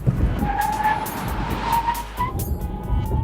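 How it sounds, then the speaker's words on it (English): BMW 3 Series braking hard from 60 mph, a sustained tire squeal over road and engine rumble as the car decelerates, loud and close. "All right, now the braking test. We're going about 60 miles an hour right now."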